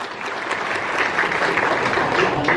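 Loud, dense audience applause fills a school award ceremony honouring 10th and 12th grade tribal students, steady clapping from many hands with no voices over it.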